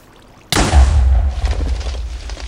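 An explosive charge detonates in a video game, a sudden heavy boom after a brief quiet lead-in, followed by a deep rumbling decay that lingers and slowly fades over a couple of seconds.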